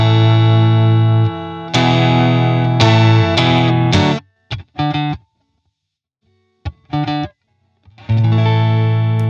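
Heavy, full-sounding guitar intro with one strum on each open chord, a series of loud ringing strums separated by silent gaps, played alone.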